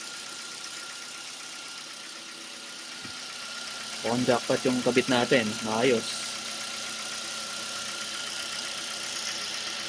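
Kia Rio engine idling steadily after an alternator replacement: a continuous low hum with a faint whine runs throughout, and someone talks briefly in the middle.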